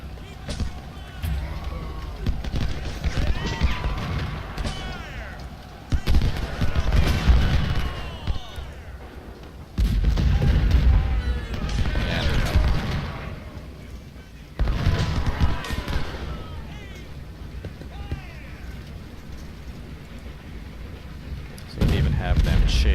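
Cavalry gunfire in Ultimate General: Civil War, rolling bursts of rifle volleys and booms arriving in waves every few seconds, with someone talking over the battle.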